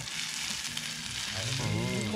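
Chili and garlic hit a hot iron wok at a campsite in Khao Chamao–Khao Wong National Park, Rayong, Thailand, and sizzle loudly and steadily, with a brief burst of stirring and a short voice heard near the end.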